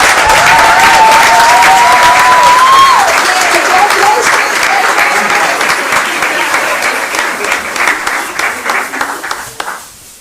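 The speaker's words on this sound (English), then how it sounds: "How about a last applause for this screen here?" An audience at a city council meeting claps steadily for several seconds. The applause starts loud and dense, then thins out and fades toward the end.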